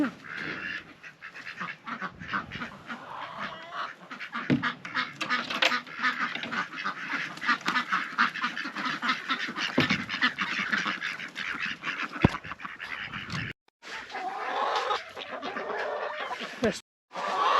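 Chickens and ducks in their coop keep up a continuous chorus of clucks, quacks and honks for the whole stretch, close by and fairly busy, with a few brief dropouts near the end.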